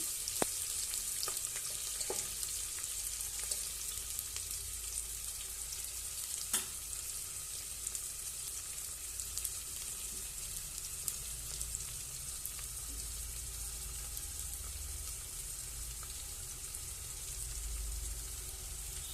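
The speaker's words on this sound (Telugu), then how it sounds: "సన్నగా తరిగిన ఆనియన్స్ వేసేసి బాగా ఫ్రై చేయాలి." Finely chopped onions fry in a pan as the base for a chicken gravy, giving a steady, soft sizzle with a few faint clinks and scrapes, and nobody speaks.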